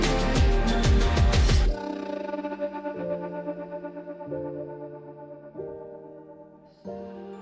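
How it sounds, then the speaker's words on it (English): Music from an album, drenched in a glitchy, stuttering reverb effect, synth notes smearing and echoing after an abrupt cut from a dense, loud opening. "It's like kind of like a glitchy reverb effect."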